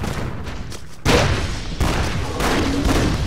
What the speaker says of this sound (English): Miniguns and bombs